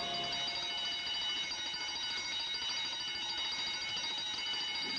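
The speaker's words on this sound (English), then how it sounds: "When there's no one around to guard the lobby, the alarm alerts us to the culprit that's trying to sneak in." A lobby burglar alarm rings continuously for about five seconds, a steady shrill electric bell at fairly low volume with no break and no voices.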